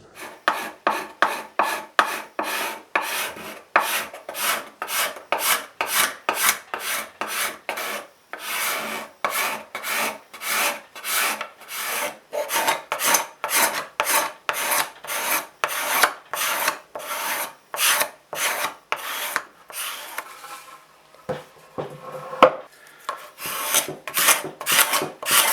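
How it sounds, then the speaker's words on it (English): Steel card scraper drawn repeatedly across a wooden guitar body joint on a Les Paul Junior build, a steady rhythm of close, crisp rasping strokes roughly two per second, with a brief pause near the end. "we'll just get a card scraper on this"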